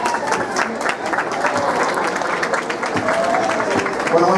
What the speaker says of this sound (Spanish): ese aplauso nuevamente